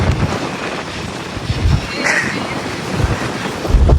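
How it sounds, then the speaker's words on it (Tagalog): Gusty wind blows hard and continuously, with low buffeting surges against the microphone and a rushing, surf-like wash throughout. "Malakas ang hangin dito."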